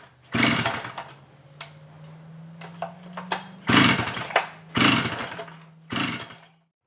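A Jonsereds 70e chainsaw being pulled over with the choke on: several loud, rough bursts of engine sound, each cutting off after a second or so, with a low steady hum running between them.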